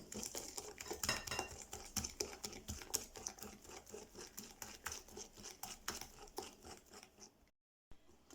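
Butter and sugar are whisked by hand in a bowl as a base for snail-shaped tea biscuits, producing quick, irregular scraping and tapping of the whisk against the bowl, fairly close, before a brief silence near the end.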